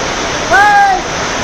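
Heavy monsoon rain pours down in a steady, loud, wide wash of noise, with a brief thin whistling tone rising over it midway.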